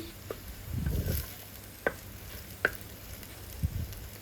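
Ginger garlic paste fries in a pan for a Bengali-style fish curry in a village kitchen, a soft steady sizzle broken by a few light scraping stirs.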